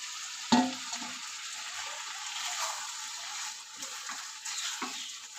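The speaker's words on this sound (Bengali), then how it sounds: "এটা দিয়েও বেশ সুন্দর করে কষিয়ে নেব" Potato and unripe jackfruit sautéing in a cooked-down spice paste and oil for a Bengali curry, with a steady moderate sizzle, a sharp clack as the pieces go in and intermittent stirring scrapes.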